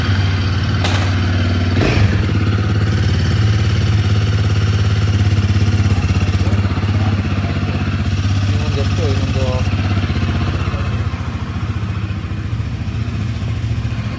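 A Toyota Innova engine running at idle, a loud, close, steady mechanical drone with a brief clatter near the start, while people talk over it.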